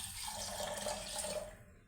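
Water pours in a brief, steady stream into buttermilk left over from churning butter, a soft continuous splashing that fades out at the end.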